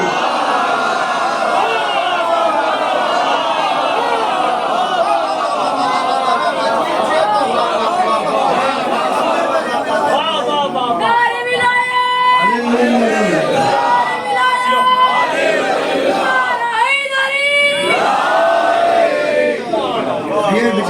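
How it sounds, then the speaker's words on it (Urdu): A crowd at a religious Shia mehfil gathering shouts a chanted slogan in loud, rhythmic bursts, voices rising together over steady murmuring hubbub, filling the room near and strong for several repeated calls. "بچے نے نعرے ولایت لگایا"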